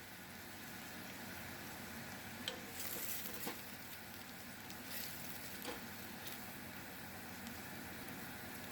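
Soft, steady sizzling of tomato paste frying in a pan, with a few scraping stirs now and then. Quiet and close, no voices.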